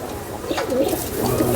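A female pigeon coos softly nearby, a low, rolling, throaty call repeated over a faint background hiss.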